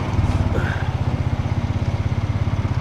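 An ATV engine chugging at low revs with a rhythmic pulsing throb while downshifting toward a hill, close and fairly loud.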